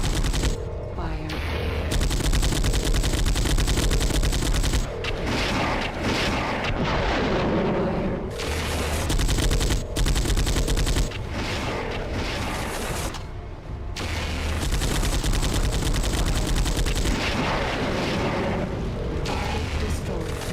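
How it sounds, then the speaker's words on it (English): Tanks and battle mechs trade heavy fire in the MechWarrior 4: Mercenaries video game, a loud, dense barrage of booming blasts and rapid gunfire across a city battle, nearly continuous for the whole stretch with brief lulls. "Tanks and battle mechs are blasting away in a fiery conflagration."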